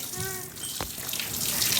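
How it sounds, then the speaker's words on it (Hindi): Water runs from a hose pipe on a village farm, a steady close gushing hiss that continues throughout beneath a brief voice. "पानी पाइप चला रही"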